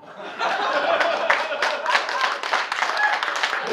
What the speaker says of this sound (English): Huge round of applause for Sam